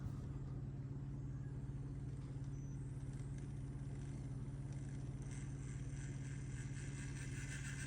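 Traxxas TRX4M RC crawler fitted with a Furitek Cedar and Python Pro motor on a 3S battery, crawling: a steady, continuous electric motor whine with low gear drone, close and unbroken throughout, no voices.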